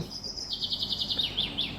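Small birds chirp inside an enclosed aviary of colourful, mostly exotic species. A quick series of high, bright tweets sounds close and clear over a soft background hum.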